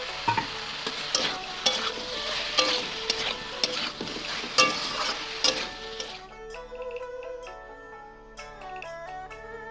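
Eggplant pieces fried and stirred into a spice paste in a pan while cooking spinach, giving loud sizzling with repeated utensil scrapes and stirring clatter; the sizzle fades after about six seconds, leaving quieter clinks and scraping.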